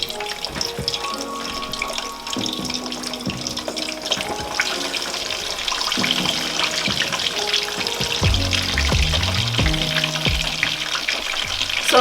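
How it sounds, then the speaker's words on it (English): Meat frying in hot oil for a Nigerian party jollof and pepper meat dinner, a loud steady sizzle and crackle that grows busier as pieces go in, alongside clinking kitchen sounds. "I am going to start adding my meat in the oil."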